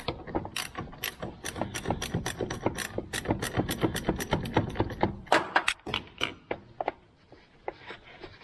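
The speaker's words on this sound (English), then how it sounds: "So first thing you want to do is disconnect the battery." Ratchet wrench loosening the terminal to disconnect a car battery on an LS1 engine, a fast series of sharp close clicks that slows into spaced single clicks near the end, no talking.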